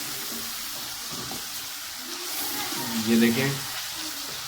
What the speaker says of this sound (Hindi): ये आपने अच्छे से इनको भूनना है